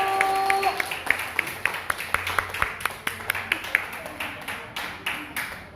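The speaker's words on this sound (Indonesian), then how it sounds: "Kasih tepuk tangan Bapak Ibu" An indoor audience of a few people at a therapy session claps steadily in a loose, fairly close rhythm of distinct hand claps that slowly fades.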